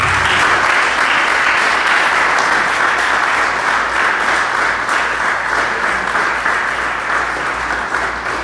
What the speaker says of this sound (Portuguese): Graças a Deus, que dá um aplauso a Jesus hoje